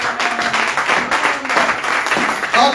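Congregation applauding in a church during a Sunday service, a dense, steady round of clapping that carries on throughout.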